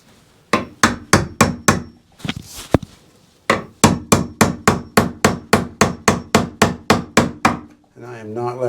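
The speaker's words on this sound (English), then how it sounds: "I'm able to hammer okay with it" Steady hammer strikes on wood at an off-grid cabin, about twenty sharp blows in quick even rhythm, broken by a short pause and a brief scrape, then a faint rustle at the end.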